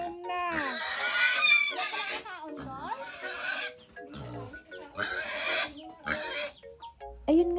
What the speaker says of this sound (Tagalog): Tapos among baboy, sigig oink oink.